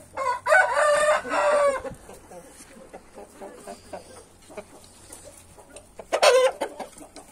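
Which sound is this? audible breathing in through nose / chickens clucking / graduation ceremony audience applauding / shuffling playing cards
chickens clucking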